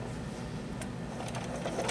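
A sewing machine stitches a quilt binding toward the corner, a steady, even mechanical hum with a low motor drone and light ticking, close and continuous throughout.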